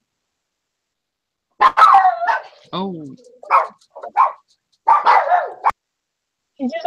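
A person imitates a dog barking with a run of short, yappy voiced barks and yips, close and loud, mixed with other people talking.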